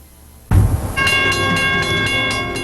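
A Royal Oak train roars past a railroad crossing, starting with a sudden loud rush and then a sustained rumble, with a ringing crossing bell tone and rhythmic clacks from the wheels.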